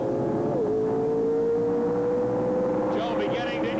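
A 1978 drag race car driven by Judy Lilly launches and accelerates hard off the starting line, its engine roaring loud and steady with a rising pitch throughout, as a second car's noise joins near the end.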